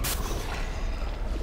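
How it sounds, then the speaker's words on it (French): An explosion in the video game Portal 2 sets off as a loud, sudden blast and then a long, rumbling roar of debris and reverberation that fills the whole moment, with no voices. "Explosion."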